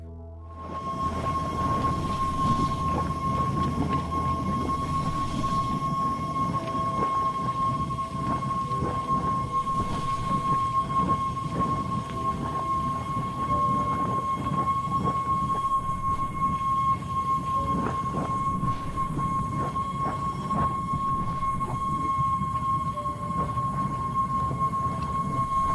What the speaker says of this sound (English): the deafening whistle with which these spectacular geysers shoot out from under the icy crust